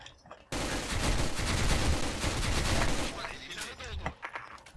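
Dense, sustained gunfire in the online shooter S.K.I.L.L, a loud continuous barrage of rapid shots lasting several seconds before thinning out, with voices talking over it.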